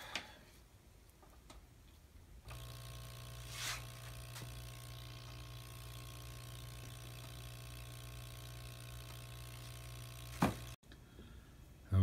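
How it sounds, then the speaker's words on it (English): Small electric pump hums steadily for about eight seconds to blow air into the beacon of a Marx O27 toy train, faint and even, with clicks as it is switched on and off. "Connecting to the pump. And power to the pump."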